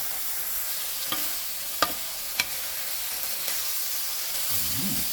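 Eggplant stir-fries in a hot pan with a continuous loud sizzle and hiss, broken by a few sharp utensil scrapes and taps.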